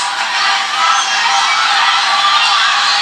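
A big Fresno State football crowd of about 6,000 cheers and yells in a loud, unbroken roar that stays bright and constant throughout.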